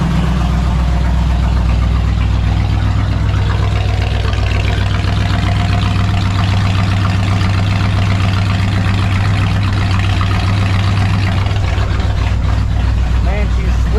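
A 1966 Ford F100 pickup truck's engine idles steadily: a deep, even rumble that holds unchanged throughout, close and loud, with no voices.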